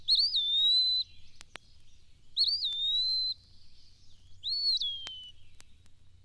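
Eastern wood pewee singing three clear, slurred whistled phrases, each about a second long and separated by short pauses, with a few faint clicks between them against a quiet, low background hum.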